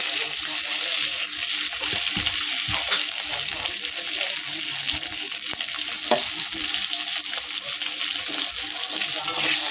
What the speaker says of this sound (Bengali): এখানে ডিমগুলো আমার ভাজা হয়ে যাচ্ছে খুব ভালো ভালো লাল লাল করে